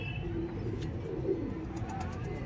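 Soft, low pigeon coos murmur close by over a steady background hum, with faint rustling in between.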